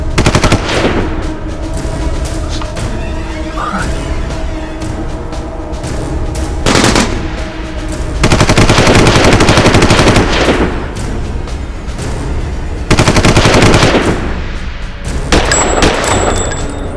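Loud, rapid automatic gunfire rattles in repeated bursts, with dense volleys and scattered single shots over a continuous noisy backdrop.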